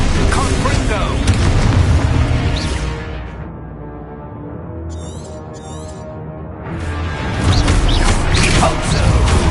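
A Confringo spell explosion in the video game Hogwarts Legacy, a loud booming blast with rumbling roar that fades into a quieter tail before more crashing effects swell back; a voice shouts at the start.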